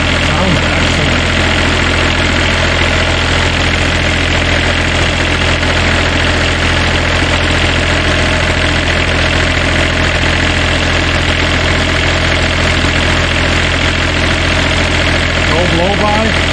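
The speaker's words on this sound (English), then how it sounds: "So that must be like the low load idle right there." A Cummins Onan generator engine, freshly swapped in, idles at low load with a steady, loud, continuous drone and rumble that holds even throughout.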